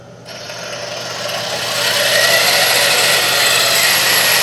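An RC car's electric motor runs at full throttle, a loud, steady high-pitched whine that swells over the first two seconds and then holds constant, with no talking.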